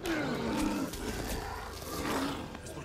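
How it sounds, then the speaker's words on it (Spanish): Werewolf roars in The Order 1886 video game, a deep growling bellow sustained across the whole stretch, loud and close over a rumbling game backdrop with no speech. "Salió un hombre lobo."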